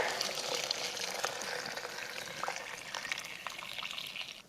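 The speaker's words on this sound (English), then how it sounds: "Add your water" Water is poured into a pot of blended tomato sauce, a steady soft splashing rush that runs for a few seconds at low volume before tapering off.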